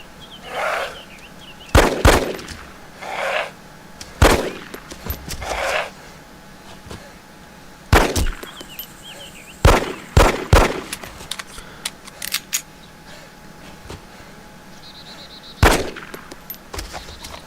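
Gunfire at zombies in Arma 2: DayZ Mod: sharp single shots and short bursts, spaced irregularly over a low ambient hiss, some loud and close, others lighter.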